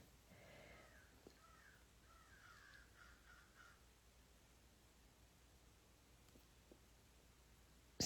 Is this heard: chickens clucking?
no